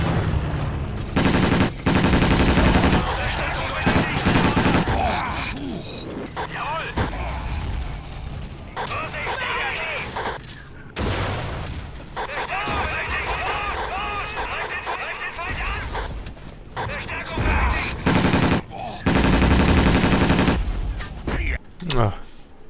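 Gunfire and explosions from the PC game Battlefield 1942 on a WWII battlefield with tanks: bursts of automatic fire and sharp shots come in clusters, with rumbling blasts between them, under ongoing player talk.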